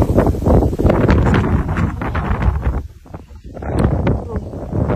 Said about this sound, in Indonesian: Angin panas